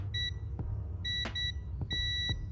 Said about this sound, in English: set this to basically just beep whenever there is continuity